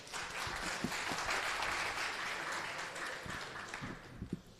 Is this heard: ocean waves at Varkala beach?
no